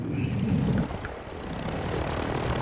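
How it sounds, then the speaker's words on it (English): A steady, loud helicopter rotor and engine drone hums continuously in a Call of Duty DMZ video game, with a low throbbing rumble and no voices. "I took a different helicopter. I took their helicopter."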